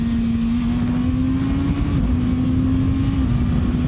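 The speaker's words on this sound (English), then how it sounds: "Now, this thing does have a quick shifter on it. It is up only" A Kawasaki Ninja ZX-6R motorcycle on a wet road shifts up into second gear with its up-only quick shifter, the engine holding a steady loud drone with a brief dip at the shift before pulling on, close and continuous without talk.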